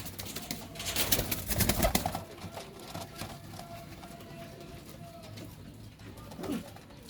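Pigeons of the umbrella-crested and belted kinds cooing and shuffling about nearby, with a louder flurry of movement early on, then soft steady cooing and a faint rustle near the end.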